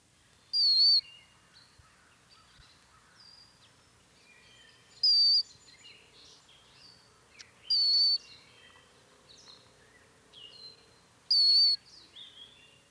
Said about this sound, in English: male cowbirds utter a variety of high-pitched whistles